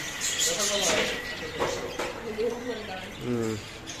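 Caged budgerigars chirp in short, bright twittering bursts, mid-distance, while a person talks over them throughout.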